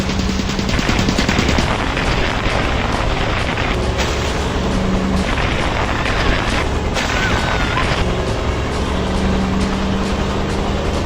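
Gunfire in the zombie video game Road of the Dead 2 rolls on nonstop: dense, loud rapid shots and bursts over a steady engine rumble, with no pause for the whole stretch.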